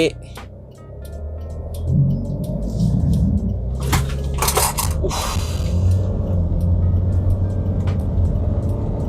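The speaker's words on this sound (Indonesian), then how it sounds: "sekarang kita mau tes 0-100 nya dari mobil ini" A 2018 Hyundai H1 XG CRDi diesel van accelerating hard from a standstill toward 100 km/h, heard from inside the cabin as a steady, loud engine drone with some rattles and clicks, and people talking over it.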